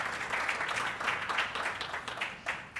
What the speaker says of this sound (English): And so please give William and Adiolu another round of applause for us.